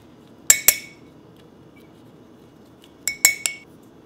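A spoon scoops the insides out of halved chestnuts, giving two pairs of bright metallic clinks against a bowl, close and crisp, separated by a quiet pause.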